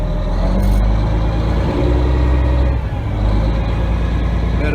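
A Mack tri-axle dump truck's diesel engine runs loud and close with a heavy low rumble while its bed is raised, holding steady with a slight dip partway through.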